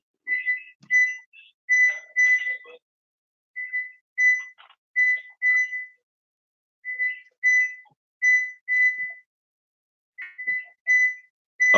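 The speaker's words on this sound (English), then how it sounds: "I hear a whistle." Short bursts of a shrill whistle in irregular groups, three or four quick blasts at a time with pauses between, fairly close and clear.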